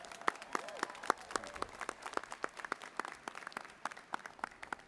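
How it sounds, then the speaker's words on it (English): Sparse audience clapping at a college commencement ceremony, distinct individual claps in an uneven rhythm, fairly faint and distant, with a brief voice underneath early on. "Please, a round of applause for Dr. Michael Fenlon."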